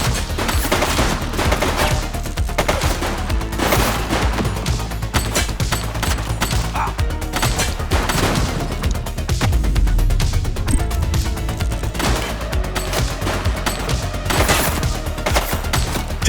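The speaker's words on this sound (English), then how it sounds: "He's shooting!" Sustained gunfire from a suspect in The Precinct, a police action game, with dense bursts of rapid shots over a steady low rumble of game music and effects, loud and continuous.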